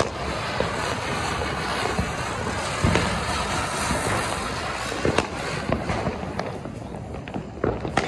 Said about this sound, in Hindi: दो चरखड़ियों की लड़ाई हो रही है